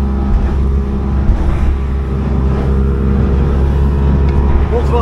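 A motorboat out of Pwllheli near Bardsey Island runs at speed, its engine a loud, steady, close drone with a deep rumble that never lets up, over choppy water.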